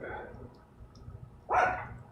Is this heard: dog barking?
yes